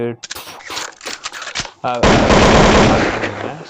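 Movie gunfire effect: sharp individual shots and quick bursts, then a loud sustained rattle of automatic fire that dominates the second half, heard close with no talk over it.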